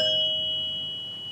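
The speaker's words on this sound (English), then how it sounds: "We've got our chimes." Sustained ringing of the chimes inside a Gottlieb Jet Spin pinball machine cabinet, a single steady metallic tone decaying slowly, fairly faint and alone.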